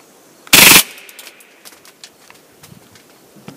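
A KWA KMP9 airsoft gun fires one short full-auto burst. A dense, loud rattle of rapid shots lasts about a quarter second and is followed by quiet with faint clicks and handling noises.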